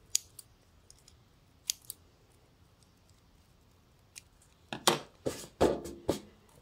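Scissors cut small craft pieces for a homemade Christmas decoration, a few sparse snips early on, then a quick cluster of louder, close crisp cuts near the end, with no talk.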